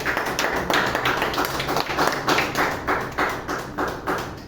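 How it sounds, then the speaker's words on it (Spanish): Congregation at a Spanish-language church service clapping in a steady rhythmic beat, loud and close, with a bright shimmer of hands throughout and no talk over it. "Fuertes aplausos a Jesús"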